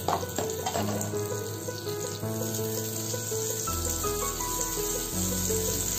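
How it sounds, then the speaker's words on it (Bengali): A small amount of butter melts in a large pan before chicken goes in, giving a steady hiss and sizzle, close and continuous, with occasional clinks and stirring noises. "দিয়ে দিচ্ছি খুব সামান্য পরিমাণ বাটার, যাতে মাংসগুলোর মধ্যে বাটারের ফ্লেভারটা ঢোকে"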